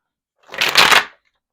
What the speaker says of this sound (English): Shuffle up these cards for y'all.